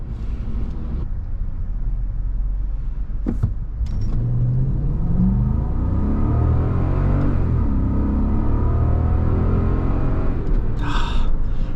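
A 2018 Toyota Land Cruiser accelerates on the road, its engine rising in pitch through the gears under a steady cabin rumble, with a couple of brief clicks and knocks.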